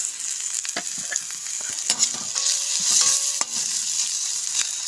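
Onion frying in a pan as ginger-garlic paste goes in for a chicken and tomato dish: a steady bright sizzle with scattered stirring scrapes and clicks, close and continuous, with no talking.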